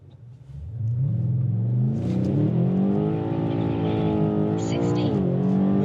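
A BMW M8 F92 pulls away from a standstill in second gear, its engine note climbing and roaring steadily louder and higher as it accelerates hard, close by.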